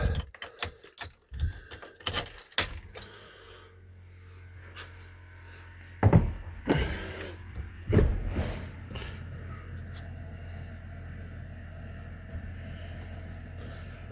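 Keys jangle sharply in several quick, close bursts, followed by the cranking and starting of a Ford truck with a 7.3 Powerstroke diesel engine, which settles into a steady low idle.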